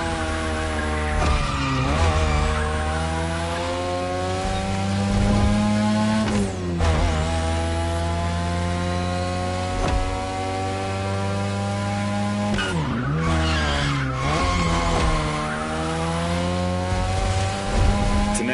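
A 2002 third-generation Mazda RX-7 with a rotary engine drifts in The Crew Motorfest, its engine holding a steady high whine while tires squeal in long sweeps and sharp pitch dips. No voices are heard.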